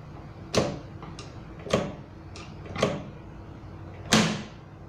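Lift-stay hinge on a kitchen cabinet being raised on the second side, giving four sharp mechanical clicks or snaps spaced about a second apart, close and fairly quiet, with no talking.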